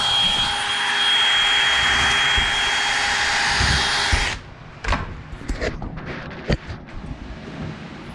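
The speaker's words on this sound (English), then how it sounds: "I'm shooting 1 1/4 inch deck screws for putting the box sides on" A power drill drives 1 1/4 inch deck screws into box sides, a loud sustained whine lasting about four seconds that cuts off, followed by scattered knocks and handling clatter.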